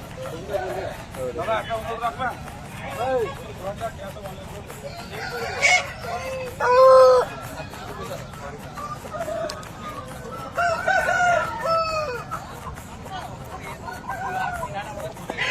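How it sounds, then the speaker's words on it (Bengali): An all-black asil fighter rooster weighing about 4.5 kg crows and clucks several times, close and clear, while people talk throughout. "একটা ভালো মুরগি দেখাচ্ছি, পুরো ব্ল্যাক ফাইটার"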